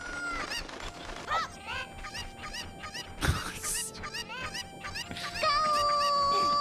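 Chicken clucking from inside a box in a Zelda video game, a series of squawking clucks and honk-like calls amid game sounds, with a thump and a tonal chime near the end.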